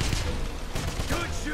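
Rapid, dense gunfire from a firefight in the Wolfenstein 2 video game, with shots crackling close and steady throughout and voices calling out over the battle.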